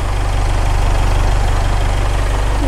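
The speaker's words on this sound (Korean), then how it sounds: "엔진 소리 일정합니다." A Jaguar F-PACE 20d engine idles steadily up close, a loud, even low rumble with a regular pulsing rhythm and no other sounds.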